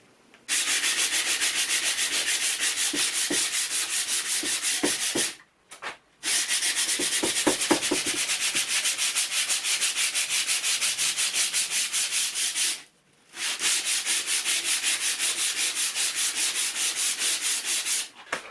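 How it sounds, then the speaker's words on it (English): Hand sanding along an MDF board edge: brisk, rhythmic rasping strokes run almost continuously, close and loud, with two short pauses partway through. "so just a quick sand, didn't take much at all"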